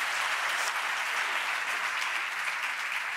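A studio audience on a late-night talk show applauds, a dense, steady wash of clapping that fills the whole moment without pause.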